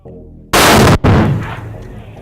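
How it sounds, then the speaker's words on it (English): A 107mm rocket launches toward ISIS positions during heavy fighting in Iraq, a very loud, close blast that lasts about half a second, then a brief gap and a second roaring burst that slowly fades away. "They're loading up the 107mm. About to fire a rocket or a few rockets at ISIS positions."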